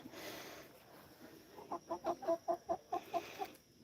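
A hen clucks in a quick rhythmic series of about a dozen short notes, fairly close, after a quiet stretch of soft background noise on an organic garden farm.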